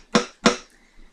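Guitar string fretted with too little finger pressure, giving two short, dead, muted plucks in quick succession that die almost at once, followed by a faint third tap.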